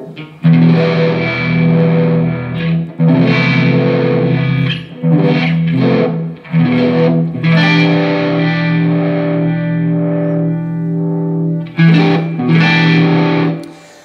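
An electric guitar on the neck pickup runs through a Tube Screamer overdrive pedal with the level raised, giving loud, gritty sustained chords and phrases in several bursts with short gaps between them.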